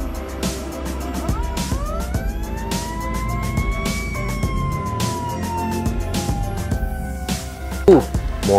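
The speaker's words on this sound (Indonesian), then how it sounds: "Mobil pemadam kebakaran teman-teman." A red toy fire truck plays an electronic siren that rises and falls, steady and near, with a clicking mechanical rattle throughout. A person talks over it.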